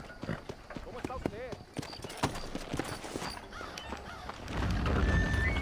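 Horse hooves clip-clop in steady rhythm through a Red Dead Redemption game scene, with whinnies and a voice talking over the footfalls before louder ambient noise swells near the end.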